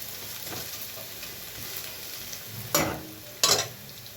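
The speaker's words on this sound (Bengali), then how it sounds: "এগুলো একটু ভাজা ভাজা হবে" Chopped onion and garlic sizzle steadily in a hot pan, with two louder scraping stirs near the end cutting over the constant frying hiss.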